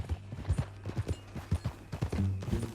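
Horse hooves clip-clopping at a walking pace in Red Dead Redemption 2, with steady, fairly close and moderately loud hoofbeats and a faint snort near the end.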